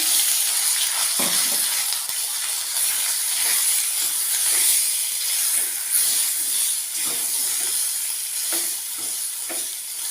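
Coconut and tomato chutney paste hits a hot pan with a steady, bright hiss and sizzle, loud and continuous throughout, with a few faint clicks and clatters of utensils underneath.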